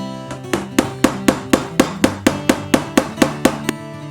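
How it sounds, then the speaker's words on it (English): Steady hammer blows strike wood in an even rhythm, about a dozen sharp knocks, close and clear with no voices, as a hammer starts a hole in an IKEA Kallax shelf panel. "Take a hammer, slightly hammer in until you feel like it's created some kind of hole"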